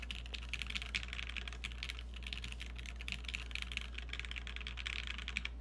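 Rapid clacky keystrokes on a Gunmetal Kaze Proto mechanical keyboard, a dense, even patter of key presses running continuously over a low steady hum, close up and with no voices.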